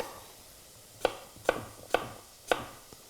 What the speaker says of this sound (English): So again, we'll start with this second apple here. We're just going to cut around the core.